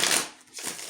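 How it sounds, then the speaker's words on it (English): Tarot cards get a quick shuffle, a dense papery riffle that fills most of the second, dips briefly in the middle and resumes at close range with no talking. "Let's give you another little quick shuffle for our air signs."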